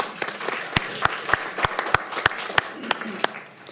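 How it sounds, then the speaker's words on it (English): A small group at a county council meeting claps after a proclamation is adopted. The applause is fairly quiet and sparse, with distinct individual claps ringing out over a soft background. "Please join me in a round of applause."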